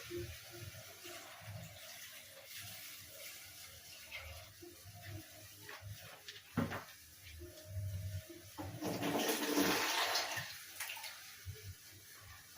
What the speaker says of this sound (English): I need to add some water.